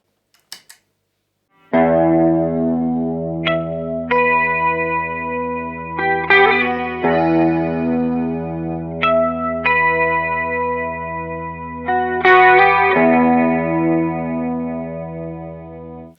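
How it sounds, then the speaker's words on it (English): Clean electric guitar chords and picked notes ring out through a heavy, spacious hall reverb, each strum washing into long, shimmering tails. "there's a very heavy, like hall type of reverb in there"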